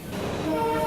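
Train-running sound effect from a Bengali radio play, a brief rumble of rolling carriages rising in loudness with a faint sustained horn-like tone near the end.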